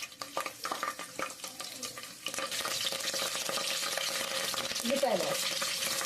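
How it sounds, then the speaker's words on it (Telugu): Curry leaves dropped into hot oil for a chicken curry, giving a steady, moderate sizzle and crackle that swells after a few seconds of lighter stirring and clinking, continuing evenly to the end. "ఆయిల్ వేస్తున్నాను కరివేపాకు ఒక మూడు మూడు మూడు రెమ్మలు వేసాను"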